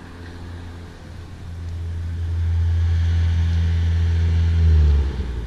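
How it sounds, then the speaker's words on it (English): An old car rumbles down a street, its low engine drone swelling steadily louder as it approaches and peaks before fading slightly, heard alone with no talking. "I can hear that grandpa car coming down the street."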